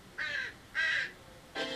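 Three harsh crow caws, evenly spaced and fairly loud, ringing out against a quiet background.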